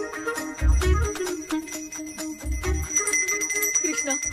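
A bell ringing on its own in a Bollywood Hindi-dubbed film scene, with repeated bright metallic clangs that ring out close and loud, mixed with a low rumbling score underneath.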